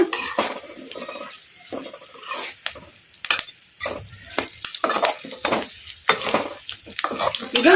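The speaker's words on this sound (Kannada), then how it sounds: "ಈಗ ಉಳ್ಳಾಗಡ್ಡೆ ಒಂದು ಸ್ವಲ್ಪ ಫ್ರೈ ಆಗಿದಾವಲ್ಲ ಈಗ ಇದಕ್ಕೆ ನಾವು ಕಟ್ ಮಾಡಿ ಇಟ್ಕೊಂಡಿದ್ವಲ್ಲ ನುಗ್ಗೆಕಾಯಿ ಈಗ ಇವನ್ನು ಹಾಕೋಣ ಕಲಸ್ಕೊಂಬಿಡೋಣ" Cut drumstick pods are tossed into frying onions in a pan, giving close, crackling oil sizzle broken by repeated scraping and clinking stirring strokes.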